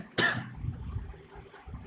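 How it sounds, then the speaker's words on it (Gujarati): A single sharp cough from a man during a spoken talk, close and abrupt, followed by quiet breathing and faint room noise. "મને થોડી ખાંસી આવ્યા કરે એના માટે મને ક્ષમા પણ આપશો."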